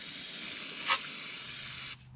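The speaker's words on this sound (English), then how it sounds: "Get some brake cleaner. I use the Brake Clean non-flammable stuff." Aerosol can of non-flammable brake cleaner spraying onto snowblower parts, a single short hiss burst under a steady background hiss.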